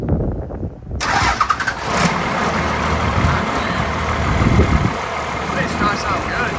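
A 12-valve Cummins diesel with compound turbos cranks and fires after a second of quiet, then settles into a loud, steady, rough idle close by, with a voice talking over it.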